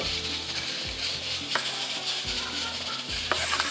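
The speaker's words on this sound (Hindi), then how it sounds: "प्याज हल्की सी हमारी ये फ्राई हो रही है।" Two chopped onions sizzle steadily in half a cup of hot oil for mutton dahi masala, a dense continuous frying hiss close by, with a few soft clinks and stirring scrapes and no talking.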